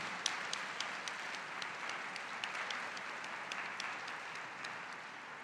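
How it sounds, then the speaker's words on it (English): Large audience at an Episcopal church council gives a soft, distant round of applause, steady dense clapping from many hands with a few sharper individual claps standing out. "would you give a big round of applause, please, to those folks who have made this possible?"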